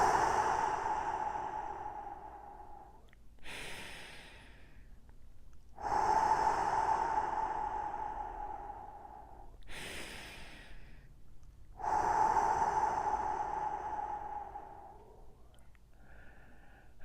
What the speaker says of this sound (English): let's start by taking 3 deep breaths.